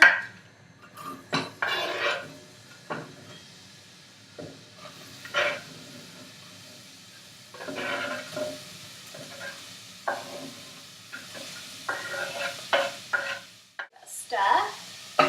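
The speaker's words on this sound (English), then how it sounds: "the coconut oil's heated, and now I'm going to add the onions to the pan." Onions added to hot coconut oil in a pan for pumpkin soup, a moderate sizzle with intermittent scrapes and clinks as they are stirred, close and uneven in loudness.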